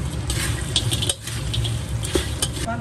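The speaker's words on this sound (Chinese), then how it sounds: "这辣椒已经炒香了，我们把这个炸过的这个鸭腿倒进去。" Fried duck legs tumble into a wok of stir-fried chili, sizzling as a metal spatula scrapes and stirs against the pan in quick clattering strokes close by.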